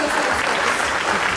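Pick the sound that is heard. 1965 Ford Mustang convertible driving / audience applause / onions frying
audience applause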